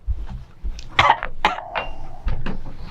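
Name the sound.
coughing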